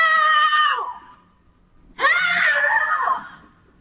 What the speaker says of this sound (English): she is screaming bloody murder too